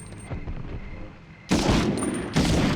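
Automatic machine-gun fire in the World War II shooter Medal of Honor, two dense bursts of rapid rattling shots, fairly loud and close, breaking out over a quieter game soundscape.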